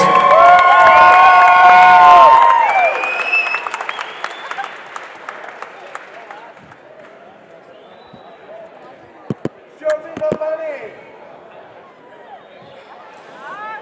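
A crowd at a Cage Titans MMA event cheers and claps loudly at first, then the noise fades to scattered shouts and claps with a few sharp thuds.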